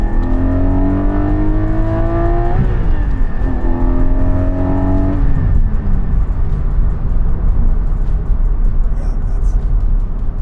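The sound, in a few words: Porsche 718 GT4 engine revving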